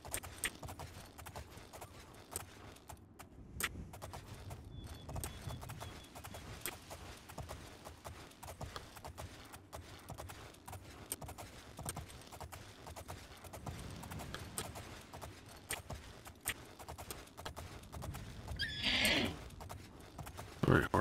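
Horse hooves in the Elder Scrolls IV: Oblivion game, a steady clip-clop of a ridden horse running throughout, with a whinny or neigh and brief rustling near the end, moderately loud.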